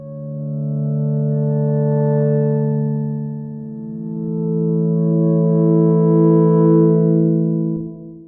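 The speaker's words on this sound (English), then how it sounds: "just a synth line with some a healthy dose of reverb on there" A smooth, sustained synth tone holds steady, then shifts pitch and swells, washed in a long reverberant tail from a tuned resonant impulse response before fading out.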